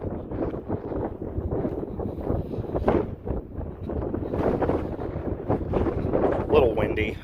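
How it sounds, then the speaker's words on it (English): Wind gusts buffet the microphone outdoors in an empty parking lot at an abandoned store, a rough, continuous rumble that swells and fades, with someone talking over it. "A little windy."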